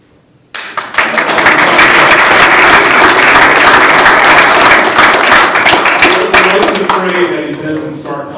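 An audience at a town meeting bursts into loud applause after a moment of quiet, dense, steady clapping that holds for several seconds before thinning slightly at the end.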